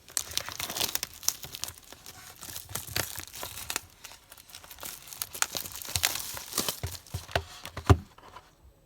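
A 2019-2020 Upper Deck MVP hockey card hobby box being opened: close crinkling and tearing of packaging, irregular bursts with a sharper rip near the end, no talk.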